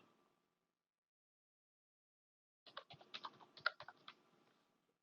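Quick clatter of computer keyboard typing, a short burst of keystrokes after a stretch of near silence.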